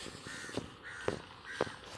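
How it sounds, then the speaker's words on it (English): A crow caws three times in rhythmic succession at a residential holiday estate in Malaysia, loud and fairly near against a quiet outdoor background. "that crow has naughtily decided to squawk over the whole video"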